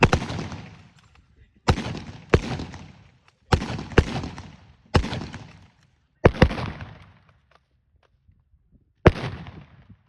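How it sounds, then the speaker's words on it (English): Kar-98K carbine rifles fire at a WWII weekend weapon demonstration at Fort Clinch: about nine loud, sharp outdoor shots come in uneven pairs and singles, each trailing off in a brief echo, with quiet gaps between them. "So, that is the Kar-98K carbine."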